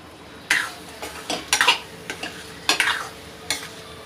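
A spatula stirs paneer tawa masala on a hot griddle, giving several sharp, close scrapes and clinks at irregular intervals over a faint steady sizzle. No one speaks.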